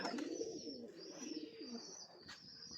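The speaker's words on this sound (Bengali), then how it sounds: "এই হচ্ছে কবুতর, নামলে দেখাবো" Pigeons cooing softly in a loft, with repeated rolling coos overlapping one another, fairly faint and steady, and no talk.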